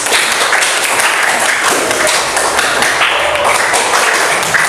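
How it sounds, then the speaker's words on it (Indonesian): A classroom audience applauds a student group in dense, continuous clapping at close range, loud and steady throughout. "beri tepuk tangan untuk kelompok 3"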